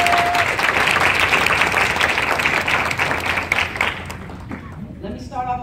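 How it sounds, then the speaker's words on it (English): Audience at a women's empowerment event applauding a guest speaker, loud sustained clapping that fades over the last second as a voice begins speaking. "Let's give her a round of applause."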